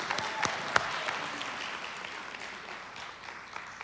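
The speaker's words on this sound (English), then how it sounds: "Let's give Pastor AK a round of applause" A church congregation gives a pastor scattered, quiet applause at a New Year service, sounding distant and thin, with a few sharper claps early on.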